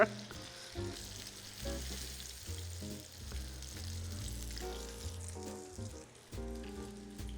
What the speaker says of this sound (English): So we finished frying up our Whataburger chicken tenders.